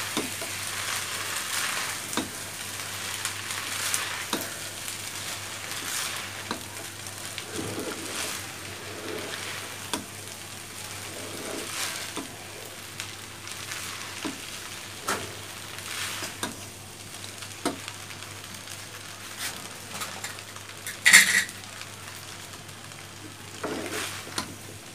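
Leftover rice, sweetened with sugar, fries in a pan under a quiet, ongoing sizzle while a spoon scrapes and taps the pan repeatedly at irregular intervals, with one louder clatter near the end.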